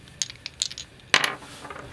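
A pair of dice thrown onto a hard surface, giving a few light clicks and then a sharp clattering tumble that quickly settles, close and fairly loud.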